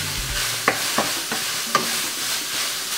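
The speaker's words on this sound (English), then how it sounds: "You just want to mix this in till the onion becomes translucent." Onion, garlic and beef sizzle in a pan with a steady hiss while a spoon stirs, scraping and tapping against the pan a few times, close and alone.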